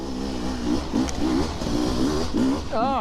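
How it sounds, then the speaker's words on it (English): A KTM enduro motorcycle engine revs and pulls on a dry trail ride, a close, continuous buzzing drone with rising and falling pitch, and a short spoken exclamation near the end. "KTM sounding quite nice"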